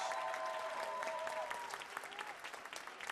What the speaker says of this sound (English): Let's give all of the dads and everybody wearing those yellow shirts a huge round of applause